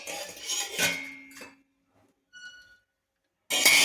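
Half a tablespoon of oil poured into a pan on a low flame and swirled around it while cooking ragi-flour and rice roti, with soft metallic clinks and scrapes, a quiet pause, then a louder burst of pan noise at the end.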